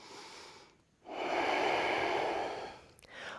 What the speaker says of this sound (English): Last 2 breaths.